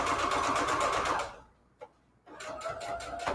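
A sewing machine stitches through thick layers of fabric scraps in a fast, steady run, stops abruptly for a near-silent pause with a single small click, then starts stitching again close and loud.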